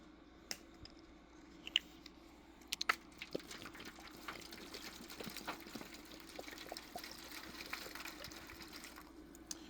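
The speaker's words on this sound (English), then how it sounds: "Pour the vinegar into the thing." White vinegar pours steadily into a casserole pan to soak old tools. A few clinks come first, then a continuous splashing stream runs close by, fairly quiet, with no talking.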